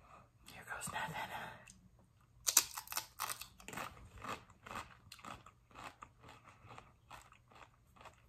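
Leftover tortilla chips from a taco joint are bitten and crunched up close, crisp repeated crackles following one another after a soft murmured voice.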